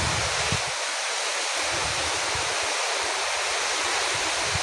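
Very heavy rain falling on a village pours down as a dense, constant hiss, loud and enveloping, with gusty low rumbles of wind underneath and no voices.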